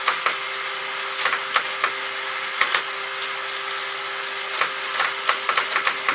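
A Radio Shack Armatron toy robot arm moves its mechanism with a steady high mechanical whir and scattered sharp clicks and ticks from its gears, faint and close with no talking.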